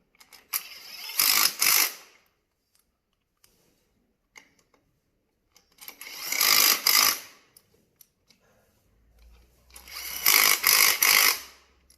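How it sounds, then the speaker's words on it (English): A hand ratchet tightens a part during a build, heard as three separate bursts of rapid clicking, each about a second long, with quiet pauses between them and no talk. "Just tighten it up with a ratchet"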